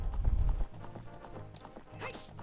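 Epona, the horse in the video game Zelda Ocarina of Time, gallops with rhythmic clip-clop hoofbeats over heavy low rumble at first, then lighter repeated hooves, ending with a brief whinny-like call.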